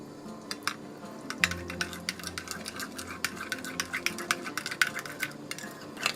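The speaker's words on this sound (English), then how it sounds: "all you want to do is mix that, make sure it has no lumps" Mayo and homemade pepper sauce being stirred together in a bowl with a utensil, giving repeated clicking scrapes and wet taps against the dish at an irregular, brisk rhythm, close up and alone.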